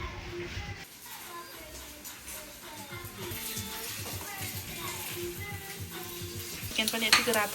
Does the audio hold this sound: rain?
no